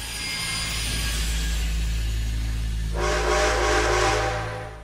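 A steam locomotive in GTA 6 rumbles low and steady, then a bright, sustained whistle-like hiss bursts in partway through and holds to the end, with no voices.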